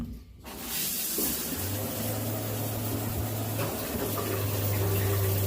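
A hot-water-on-demand tap in an empty beach house runs steadily after a brief quiet start, a continuous hissing water flow with a faint pump-like hum beneath, nearby and without talk.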